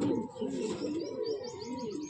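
A Madrasi pigeon in a loft gives soft, low throaty coos, close and continuous for a moment, with faint chirps from other birds behind.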